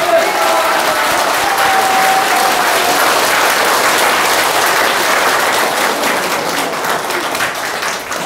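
A large crowd of about a thousand at a political rally in Busan bursts into loud, sustained applause, dense clapping filling the whole stretch at close range with a faint murmur of voices mixed in.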